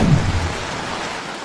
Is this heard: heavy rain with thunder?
yes